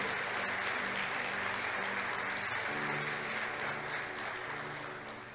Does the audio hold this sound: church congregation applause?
yes